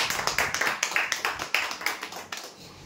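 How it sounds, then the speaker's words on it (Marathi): A small audience at a weekly prize draw claps for a winner, a modest run of distinct, rhythmic hand claps, fairly close and tapering off after a few seconds. "जोरदार टाळ्या होत्या यांच्यासाठी।"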